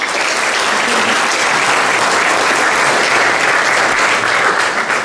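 Loud, dense applause fills a residents association meeting after a candidate's speech, with many hands clapping continuously at close range and no break.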